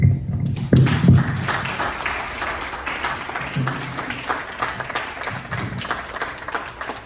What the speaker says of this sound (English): And a round of applause for yourself.